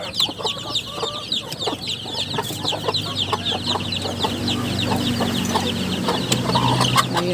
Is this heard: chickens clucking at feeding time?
yes